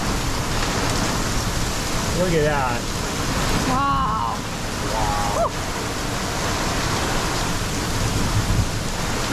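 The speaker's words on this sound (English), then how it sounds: "Oh. Chickpea hail." Chickpea-sized hail pounds a boat in a loud, dense, continuous roar of impacts that lasts throughout, while people exclaim over it.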